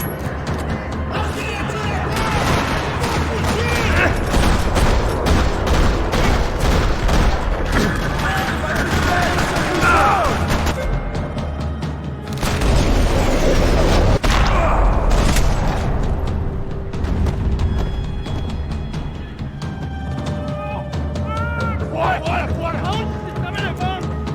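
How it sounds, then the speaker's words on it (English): Bursts of rapid gunfire and booming blasts rattle continuously in a parking lot in Max Payne 3, with a short lull midway before the shooting resumes, loud and close. "parking lot rattling with gunfire"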